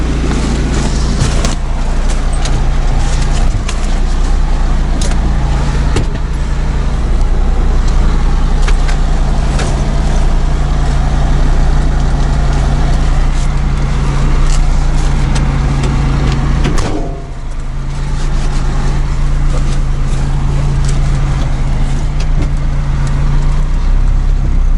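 A UAZ off-road vehicle hauling hay drones along with a steady, loud, close engine hum and road rumble that continues throughout, with one brief dip partway through.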